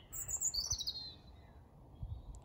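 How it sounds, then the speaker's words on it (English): Bird chirping from a big tree in a village in Augher, Northern Ireland, with bright high tweets clustered in the first second and a faint call near the end, over low outdoor rumble. "The bird is chipping in here so beautifully."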